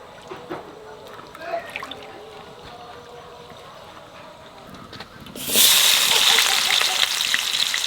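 Pieces of taro (kochu) go into hot oil after a few quiet handling sounds, and a sudden loud, close hiss and sizzle breaks out and keeps going steadily.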